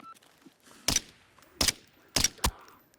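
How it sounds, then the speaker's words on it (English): Pistol gunshots fired at an enemy in an extraction shooter game, four sharp cracks in a loose sequence, the last two close together, against near silence. "Shot at him a couple times."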